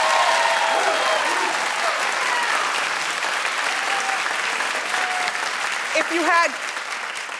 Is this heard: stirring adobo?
no